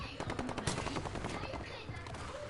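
Rapid automatic gunfire in Call of Duty Warzone rattles in quick, fairly distant bursts of sharp shots, steady and unbroken across the moment, faint in level with no speech.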